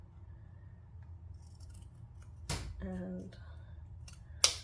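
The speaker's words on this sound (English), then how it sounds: "I'll just trim this before I glue it to the card." Scissors trim patterned paper for a handmade card, giving a couple of sharp close snips separated by quiet pauses, with a soft voice and light handling sounds between.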